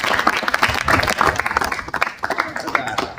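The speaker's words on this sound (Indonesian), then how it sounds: "Oke, tepuk tangan" A roomful of santri, students at an Islamic boarding school, clap their hands together in a dense burst of applause during a self-hypnosis lesson; the clapping stays loud and busy, then thins and turns ragged toward the end.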